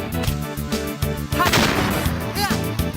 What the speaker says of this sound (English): Oh, the explosion's still there.